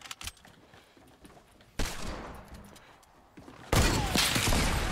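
A few sharp video game gunshot cracks, then bursts of loud, sustained gunfire and explosive noise that grow louder toward the end.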